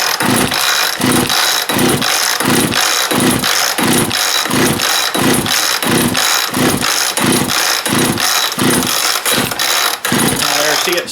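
A chainsaw engine that has no chain brake runs loud and close after a choke start, with a rough, pulsing, uneven rhythm throughout.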